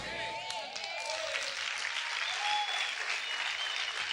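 A church congregation applauds steadily throughout, a dense, fairly faint wash of clapping with a few voices calling out over it.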